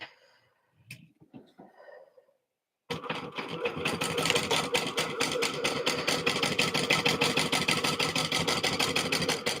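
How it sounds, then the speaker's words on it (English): After a few quiet handling noises, a sewing machine starts up and runs steadily, stitching the side of a Levi's denim utility bag with a fast, even mechanical chatter, close and loud. "I'm going to sew up this side too."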